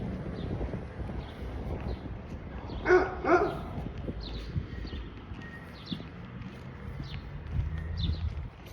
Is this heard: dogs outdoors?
yes